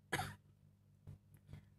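A man coughs during a maths lesson: one sharp close cough followed by two softer coughs, quiet and isolated.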